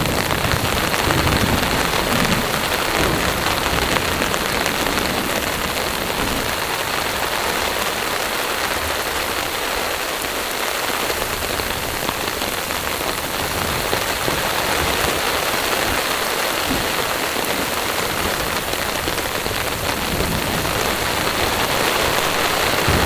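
Heavy rain pounds a camping tarp during a violent Colorado thunderstorm, a loud, dense, unbroken roar of drops that lasts throughout with no voices.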